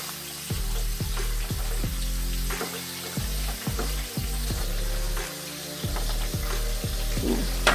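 Food, orange chicken pieces, sizzles and crackles steadily in hot oil, close up, with occasional clinks and stirring noises.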